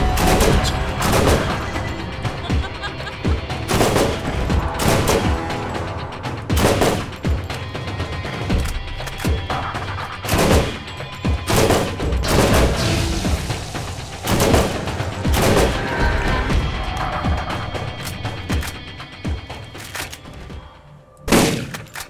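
Dense rapid gunfire from the Borderlands video game, with repeated loud shotgun blasts and bursts of automatic fire crowding one another throughout, the impacts and booms overlapping with almost no pause.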